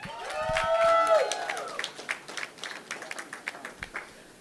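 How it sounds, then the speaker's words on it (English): Audience applause at a live talk show on Jamaican music, with a musical tone and a voice over the opening, then scattered, fairly faint claps tapering off. "Another round of applause, ladies and gentlemen."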